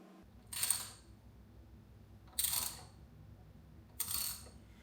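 A 10 mm Allen key loosens the oil filter housing on a BMW F80 M3 track car, making three slow bursts of close metallic ratcheting clicks separated by short pauses.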